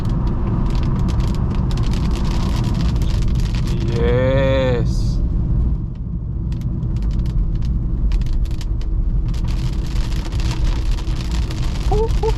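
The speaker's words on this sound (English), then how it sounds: "Damn, it's raining like hell there." Heavy rain drums steadily on a BMW E46 320i as it drives, a dense, constant wash under the engine and road noise, with a brief voice speaking partway through.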